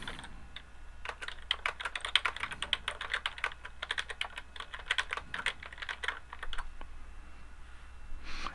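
Rapid keystrokes on a computer keyboard, typed in irregular bursts of clicks, while a question is entered into a classroom categories game program. The typing is close and clear, with no talking.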